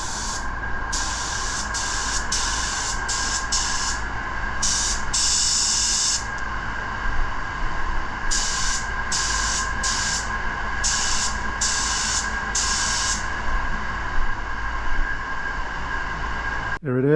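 A spray gun misting on a light coat of paint hisses in a series of short and longer bursts, close and steady, over a constant low mechanical hum.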